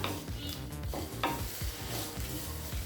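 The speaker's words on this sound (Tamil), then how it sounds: "ஒரு நிமிஷம் வரைக்கும் காய்கறியை நல்லா வதக்கிக்கலாம்." Mixed vegetables sauté in a pan for white kurma, sizzling steadily while a spoon stirs and scrapes them in repeated rhythmic strokes, close up and with no voices.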